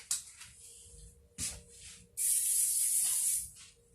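Hairspray sprayed onto a wig in a few short hissing bursts, then one longer, louder sustained spray, close and without speech.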